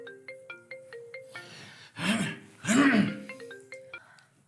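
A mobile phone ringtone plays a repeating run of bright, stepped electronic notes, broken in the middle by two loud breathy vocal bursts, then resumes quieter, in a drama scene.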